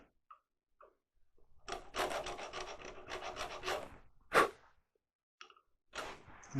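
A rasp files a spiral into a wood-turned long-stem goblet, giving bursts of rapid, close rough strokes in a steady rhythm, then a short pause, one louder scrape and a final brief rasp, with no voices.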